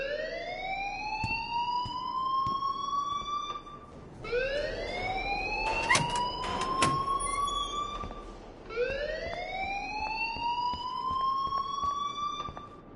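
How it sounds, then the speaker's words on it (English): A school fire alarm in the video game Life is Strange wails in rising electronic sweeps, three repeated upward glides with harsh buzzing bursts in between, loud and continuous. "please turn off that alarm since that's your job"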